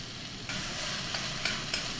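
Onions frying in a pot over high heat for pastrami chili give a steady, fairly quiet sizzle, with a few soft stirring clinks near the end.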